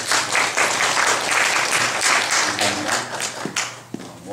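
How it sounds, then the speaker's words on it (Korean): Loud, enthusiastic audience applause at a workplace ministry training session, dense rhythmic clapping that thins out near the end with a couple of thumps. "박수가 굉장히 크네요."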